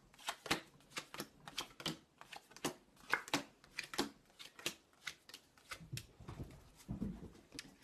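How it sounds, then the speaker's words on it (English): Tarot cards being shuffled by hand in a quiet room, a steady run of crisp, close riffling flutters and taps repeating for several seconds with no talking. "so shuffling the cards and putting some of our energy into the cards here"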